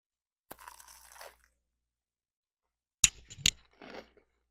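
Someone bites into a crunchy fried chicken sandwich: a soft rustle of handling, then two sharp close crunches followed by muffled chewing, with quiet gaps between.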